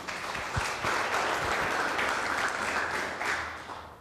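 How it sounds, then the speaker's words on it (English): Audience applause at a community safe-streets meeting, a steady wash of clapping that holds for several seconds before tapering off, with a few louder individual claps near the start. "Give him a round of applause."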